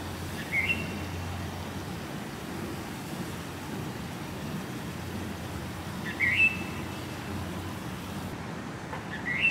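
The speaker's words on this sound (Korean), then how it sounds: "우와 새들이 너무 가까워지고 있어서" Birds chirping close by outdoors in Hawaii, a few brief high calls over a steady rushing background that may be surf or wind.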